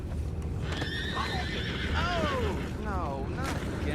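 Horses neigh and whinny repeatedly in Red Dead Redemption 2, several rising and falling calls close by over a low outdoor rumble, with faint clip-clop of hooves and some talk underneath.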